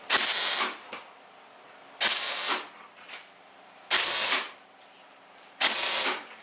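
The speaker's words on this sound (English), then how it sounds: "And this is stitch welding." Stitch welding on a sheet steel quarter-scale chassis: four loud, even bursts of crackling, hissing arc noise, each roughly half a second long, repeated about every two seconds with a faint hum in between.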